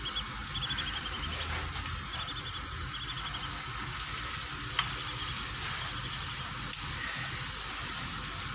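Salted dough pieces frying in a little hot oil in a pan, a steady close sizzle with small crackles and pops spread throughout.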